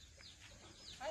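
Chickens cluck softly and far off in an outdoor setting, faint under a steady wash of background noise, with one slightly louder call at the end.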